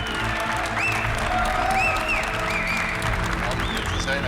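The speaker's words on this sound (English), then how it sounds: "A big round of applause for our boss, Mr. Matthias Müller." A crowd at a company kickoff event in the historic Wagenhalle applauds the boss with sustained, loud clapping. Tonal sounds and background voices run beneath it.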